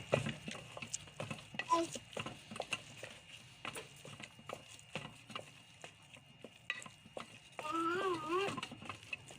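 Semolina (suji) roasting in a pan for village-style makkhandi halwa, with quiet, irregular scraping and stirring strokes against the pan and a brief voice-like tone near the end.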